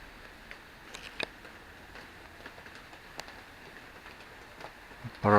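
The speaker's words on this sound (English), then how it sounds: "Nice weather, some fresh rain." Fresh rain falls on a warm day on the island of Madeira. It gives a soft, steady patter with scattered crisp drip ticks close by and a louder knock at the very end.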